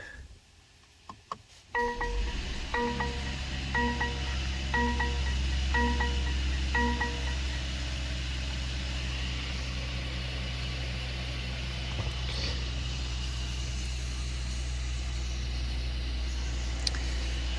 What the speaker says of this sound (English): All right, I'm gonna go ahead and start it up.